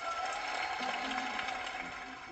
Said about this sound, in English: The whole North Pole is clapping for you